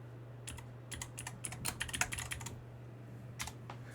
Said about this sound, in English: typing with my iPad here.